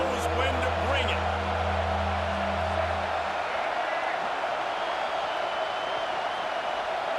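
A stadium crowd in EA Sports College Football 26 at a Texas A&M versus LSU game roars in a steady, loud wash of cheering, with a low engine-like hum fading out early.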